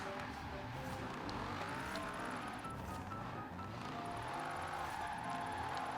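Dodge Viper driven through a tight drift zone in Forza Horizon 4, a steady loud engine drone with shifting revs running throughout.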